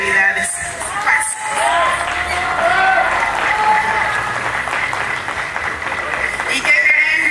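A lively crowd at a foundation-event inauguration applauds steadily and cheers, with scattered whoops and children's shouts over the continuous clapping throughout.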